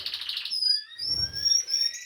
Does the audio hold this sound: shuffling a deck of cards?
no